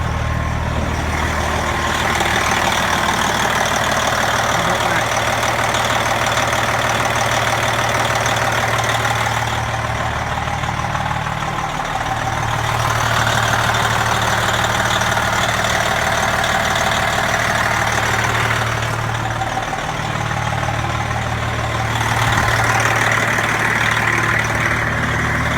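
A brand-new 2017 Freightliner Coronado truck with a Detroit 12.7L DDEC IV diesel idles loudly and steadily at close range, its deep rumble holding even with slight periodic swells and no talking.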